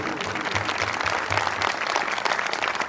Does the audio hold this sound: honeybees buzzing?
no